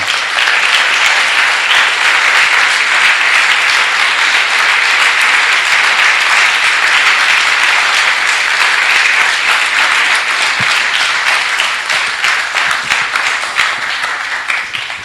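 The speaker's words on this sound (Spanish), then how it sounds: "Un aplauso para los hombres de la radio." Sustained applause from an audience at an 85th anniversary event honoring the men of XETQ radio, a loud, even wash of many hands clapping that tapers slightly at the end.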